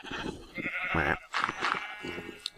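Sheep in the Minecraft video game bleat several times in short nasal cries, close and fairly clear, with small clicks and game noises between the calls.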